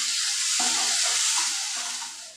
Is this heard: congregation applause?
no